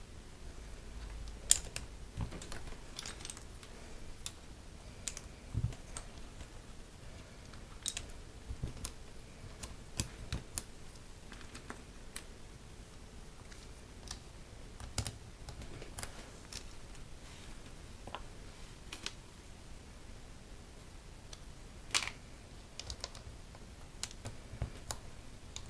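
Lubed mechanical keyboard switches fitted with keycaps are typed on in a quiet room, producing a steady stream of soft, close clicks and taps with occasional sharper keystrokes.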